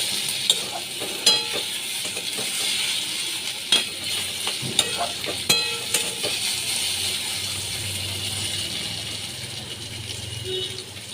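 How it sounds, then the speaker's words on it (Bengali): Taro pieces fry in a pan with a steady close sizzle, punctuated by sharp metallic clinks and scrapes of a spatula as the pieces are turned. "লাল করে ভাজা হয়ে গেছে কচুগুলো"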